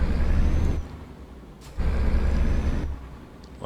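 Air brakes on a truck release in loud bursts, two strong hissing rumbles separated by a quieter pause, with a faint whine at the end; no talking.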